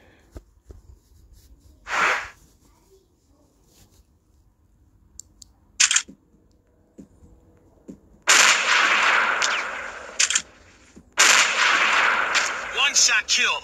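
M200 sniper rifle in a shooter game: a few sharp, isolated shots spaced several seconds apart, then two longer loud bursts of noise, over an otherwise quiet background.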